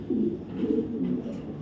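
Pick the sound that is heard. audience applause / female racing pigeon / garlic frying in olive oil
female racing pigeon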